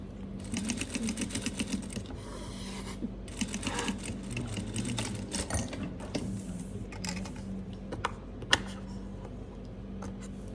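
A sewing machine stitches bias tape onto a garment cuff, its needle mechanism chattering in quick, even bursts with brief pauses between runs, close by and moderately quiet.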